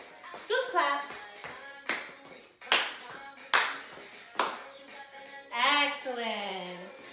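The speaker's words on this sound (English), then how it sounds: "So we just finished our scoop clap." A small group of children perform a rhythmic clapping routine in a music class, a series of sharp, evenly spaced claps and taps interleaved with an adult voice talking and singing along close by.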